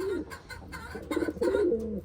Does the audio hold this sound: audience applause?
no